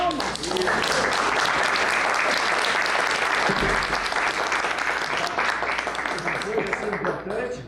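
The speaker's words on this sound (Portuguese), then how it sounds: "E mais uma vez, palmas." Loud, sustained audience applause at the launch of the Encontros project, a full crowd clapping continuously with some voices mixed in, tapering slightly near the end.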